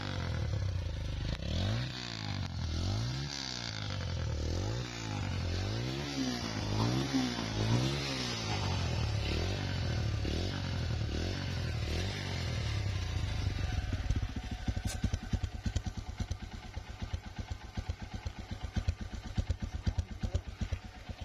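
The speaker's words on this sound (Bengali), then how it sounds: "এখন আমরা এই বাইকের সাউন্ডটা শুনবো যে কেমন লাগে সাউন্ডটা শুনতে।" A used Taro GP 1 V3 Special Edition motorcycle engine running nearby, revving in repeated rising and falling surges before settling into a rough, rapid idle throb.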